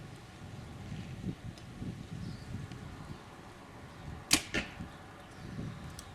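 A PSE compound bow, either the Carbon Stealth Mach or the Evo NXT 33, releasing an arrow outdoors: one quiet, sharp snap with a short twang of string, heard against steady wind noise.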